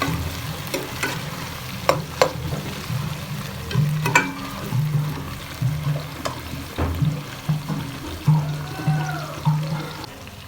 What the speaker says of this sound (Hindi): अब इसमें 1 बड़े साइज का टमाटर ऐड करेंगे और 3 अदद मिर्चें, हरी मिर्चें ऐड करेंगे और मसाले को अच्छी तरह पकाएंगे।